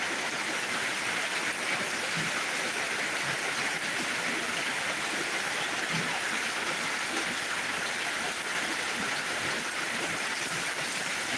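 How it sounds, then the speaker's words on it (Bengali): Heavy torrential rain pours down in Dinajpur, a dense, unbroken hiss of water striking surfaces that stays loud and even throughout. "এই মুহূর্তে মুসলধারে বৃষ্টি শুরু হয়েছে"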